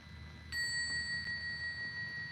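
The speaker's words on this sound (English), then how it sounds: "let's go ahead and ring the bell." A small bell is struck once, giving a bright, sustained ring that rises suddenly over faint room noise and rings on steadily for about two seconds as it slowly fades.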